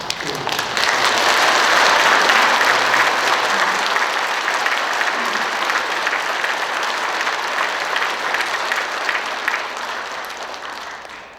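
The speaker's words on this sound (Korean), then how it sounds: "우리 예비 신자들, 우리 신자들 따뜻한 마음으로 박수로 표현하는데" A church congregation at a Catholic Mass claps warmly to welcome new catechumens, a loud, dense wash of applause that swells early, holds steady and tapers off near the end.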